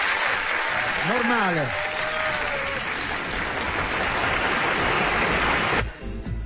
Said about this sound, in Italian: Applauso vero.